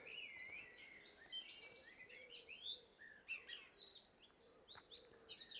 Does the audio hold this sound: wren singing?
yes